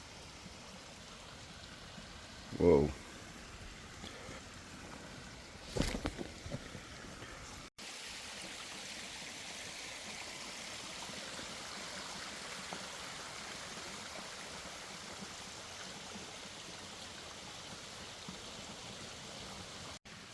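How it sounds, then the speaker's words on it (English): A waterfall and stream on a side trail in Kaua'i, Hawaii, give a steady broad rush of falling and flowing water throughout. A brief exclamation and a few handling bumps come early, then the water continues alone. "I found this little side trail with this amazing waterfall situation going on here."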